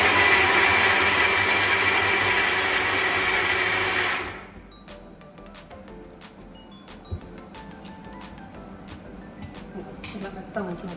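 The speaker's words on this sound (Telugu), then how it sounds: "లాస్ట్కు సగ్గుబియ్యం వేసి ఇప్పుడు మిక్సీ పట్టాలి" A kitchen mixer grinder whirs loudly and steadily, grinding soaked rice and sago into a smooth batter for crispy rice crackers, then cuts off after about four seconds. Quieter handling clatter and faint kitchen sounds follow.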